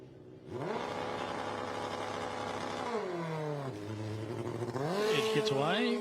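A turbocharged, nitrous-fed top fuel drag bike launching down the strip, its engine note climbing sharply in pitch, dropping, then surging again, loud and continuous with an announcer talking over it.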